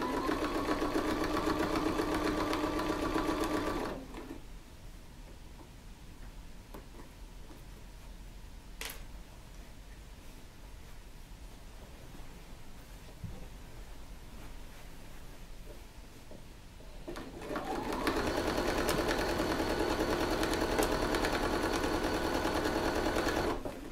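A sewing machine stitching quilt sashing runs in a fast, steady whirring buzz at the start, stops for a long quiet pause, then starts again and runs until the end, close and alone without talking.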